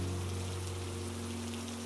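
Steady rain falling on a surface, an even dense patter throughout under a low sustained musical hum, with no voices.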